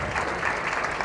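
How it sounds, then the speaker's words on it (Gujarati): Audience applause at a Gujarati school or community event, dense steady clapping throughout the whole short moment with no break. "જોરદાર તાળીઓથી વધાવતા રહીએ"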